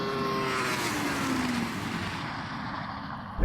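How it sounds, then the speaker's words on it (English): A Porsche Taycan Turbo GT with a two-speed gearbox accelerates hard in a drag race. It gives a loud, steady, close roar with a high electric whine that slides downward, then a brief surge near the end, with no talking. "This has a 2-speed gearbox, and when it changes gear, you really notice."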